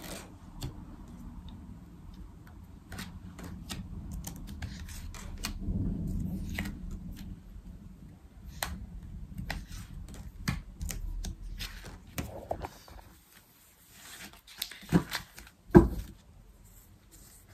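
Tarot cards are shuffled and drawn for a six-card spread: a steady soft riffling and clicking of cards throughout, close and fairly quiet, ending in a few sharper flicks and slaps as cards are laid down. No talking.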